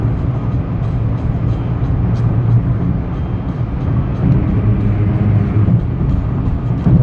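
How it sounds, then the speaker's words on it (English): Inside a Mitsubishi Mirage at highway speed, loud tire road noise forms a dense, constant low rumble filling the cabin throughout. "Tires are quite loud."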